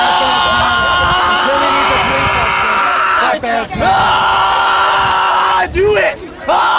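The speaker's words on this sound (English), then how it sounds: "Then what's all the yelling about?" A protest crowd at a Gainesville clash between antifa and white supremacists yells continuously and loudly, with overlapping shouts and voices close by and a few brief lulls.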